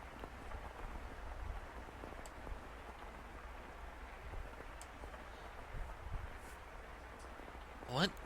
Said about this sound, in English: It sounds like rain again.